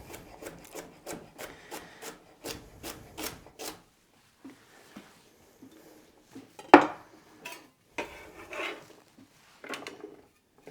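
A knife chopping celery on a cutting board, a quick steady run of crisp taps up close, then a pause and scattered louder knocks and rubbing as the pieces are moved, no talking.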